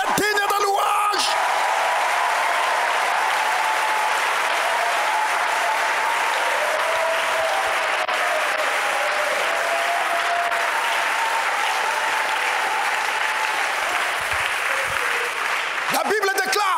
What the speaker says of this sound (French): Quelqu'un acclame encore pour Jésus ce matin.